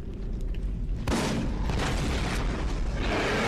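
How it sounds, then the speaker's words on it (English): An explosion in the video game Borderlands, a sudden loud boom that bursts over a rumbling background and leaves a sustained roar and debris noise afterward. "did you just shoot at me or use an explosive to hurt me?"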